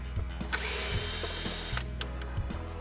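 A power driver on a low torque setting whirring in short bursts as it backs out screws on the gearbox of an MGI Navigator quad golf trolley, close and clear, with faint ratcheting clicks and no speech.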